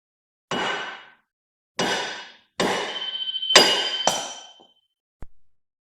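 Sledgehammer striking a Ford Taurus X rear wheel bearing assembly: five loud, close metallic clangs with ringing decay, spaced about a second apart, followed by a lighter tap.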